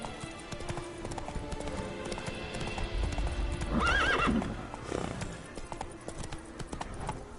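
Horse hooves clip-clop steadily in The Witcher 3, with a whinny rising midway over a constant game background bed.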